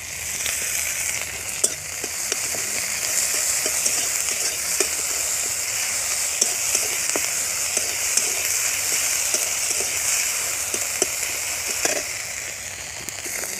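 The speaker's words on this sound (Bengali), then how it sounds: "যে তেল আছে তার মধ্যে দিয়ে দিচ্ছি পেঁয়াজ কুচি।" Chopped onion and ginger-garlic paste fry in hot oil in a pan, giving a continuous close sizzle with occasional sharp pops and spatula stirs throughout, with no voices.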